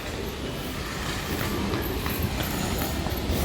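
A train running on rails in Chennai, a continuous loud rumble with faint rhythmic clatter and a thin high squeal over it, steady throughout with no talking.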